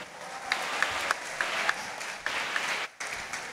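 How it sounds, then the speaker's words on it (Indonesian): Applause from an audience at a pesantren cabinet report event for Pondok Modern Tazaka, a steady broadband wash of clapping with a few sharper claps standing out, fairly distant and filling the room. "Beri tepuk tangan untuk Pondok Modern Tazaka"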